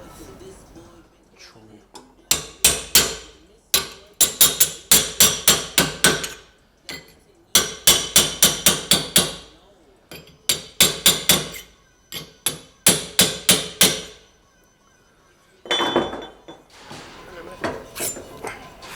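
A hammer strikes a bricklayer's bolster chisel, its edge rounded over, against the edge of a metal repair panel. The sharp, ringing metallic blows come in fast clustered runs with brief pauses, close and loud.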